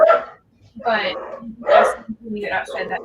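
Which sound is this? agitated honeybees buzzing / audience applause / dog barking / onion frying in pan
dog barking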